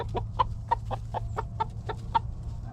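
A rooster clucks in a quick, steady run of about nine short, evenly spaced calls after finding food in a chicken yard, close and moderately loud over a low background hum.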